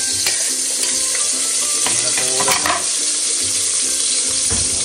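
Onions and tomatoes frying in hot oil with cumin for a village-style mutton rassa, a loud steady sizzle with spoon scrapes and stirring clatter running throughout, no one speaking.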